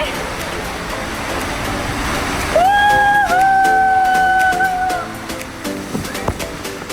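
Rushing water inside a dark water slide tube, heard from a double raft ridden by one person at a Florida water park: a loud, close roar of water, with brief tonal squeals in the middle.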